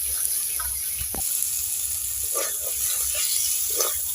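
Spice paste (masala) fries in a pan for a snail curry, giving a steady hiss and soft sizzle with a few faint pops and clinks.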